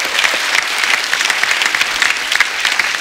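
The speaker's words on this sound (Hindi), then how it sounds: "जोरदार तालियां उनके लिए।" Studio audience on a comedy talk show applauding loudly, a dense, even crackle of many clapping hands sustained throughout with no speech.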